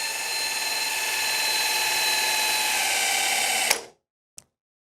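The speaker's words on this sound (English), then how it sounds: "turn that motor with your drill" A power drill turning the motor of a Power Gear motorized hydraulic jack to retract it whines steadily at high pitch for several seconds, then cuts off abruptly, followed by a single faint click.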